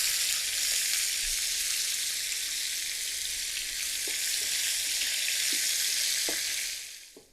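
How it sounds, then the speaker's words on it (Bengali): Chopped onions sizzle and fry steadily in a pan as they turn golden for an egg curry, with a few soft stirring clicks before the sound fades out at the end. "পেঁয়াজটা ভাজা হয়ে গেছে আমার"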